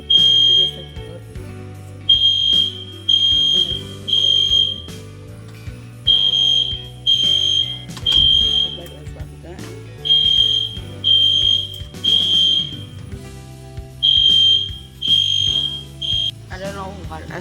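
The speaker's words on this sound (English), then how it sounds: "it was a fire alarm going throughout the building" A building's fire alarm sounds in loud, repeated shrill beeping bursts, three pulses at a time in a steady cycle, over a low background hum.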